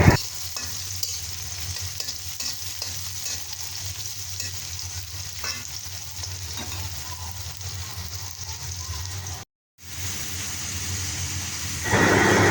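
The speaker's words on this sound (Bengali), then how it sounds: "কাঁচা মরিচ, রসুন, পেঁয়াজ একটু ভেজে নিচ্ছি" Green chillies, garlic and onion fry in a pan for Malabar spinach with lentils, a steady loud sizzle with occasional stirring scrapes, briefly cutting out before resuming stronger.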